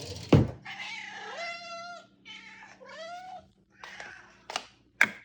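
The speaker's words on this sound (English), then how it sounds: "he's got this high-pitched meow" A cat meows repeatedly for wet food, long high-pitched drawn-out cries close by, with a soft thump at the start and a couple of light knocks at the end.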